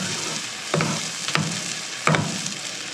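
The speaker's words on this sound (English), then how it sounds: "We're going to get our whisk, get these lumps out of here." Lumpy steak-and-onion gravy whisked in a pan, a steady bubbling simmer broken by three distinct scraping strokes of the whisk, close and moderately loud with no voices.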